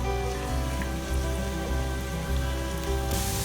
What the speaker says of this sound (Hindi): और इसमें एक छोटे साइज़ की प्याज चॉप करके और इसे फ्राई करूँगी